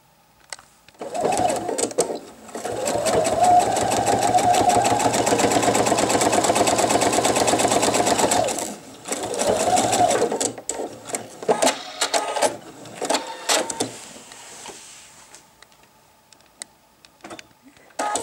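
A sewing machine stitches the side seam of a men's wallet with jeans thread, running in a long steady burst of about seven seconds, then several shorter runs and brief stops, close and loud with no talking.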